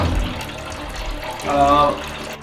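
Liquid ice cream mix gushes out the bottom of a home ice cream machine left unclosed, a close, loud splattering pour that swells near the end; a voice can be heard faintly underneath.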